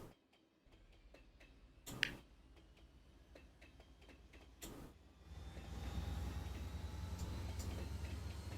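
A train starting up in the video game Mashinky: soft periodic ticks and a couple of sharp clicks, then a low rumbling rise that swells into a steady engine drone for the last few seconds, no talk.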